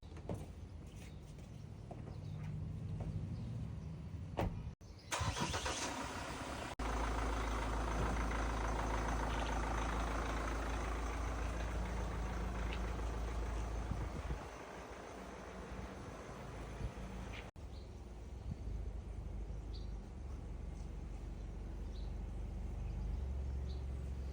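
A Mahindra Thar engine rumbles steadily close by, a low continuous idle with a brief louder burst near the start as it turns over, then holding an even drone throughout.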